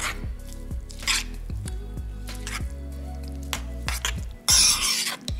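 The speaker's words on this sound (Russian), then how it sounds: "Все хорошо перемешиваем." A utensil stirs fresh herbs into a salad dressing for a quick tuna salad, making repeated wet squishing strokes over a soft tonal backdrop, with a louder splashy burst near the end.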